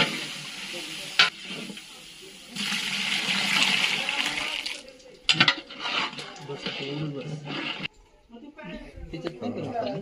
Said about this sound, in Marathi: ते बटाटे आणि बीन्स मामा टोपामध्ये टाकून घेतले.